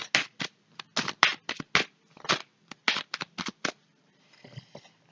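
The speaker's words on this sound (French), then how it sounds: "Allez, on va aller prendre 5 cartes." Tarot cards shuffled by hand close up, a quick irregular run of crisp riffling and slapping bursts, then a softer shuffle trailing off at the end, with no talking.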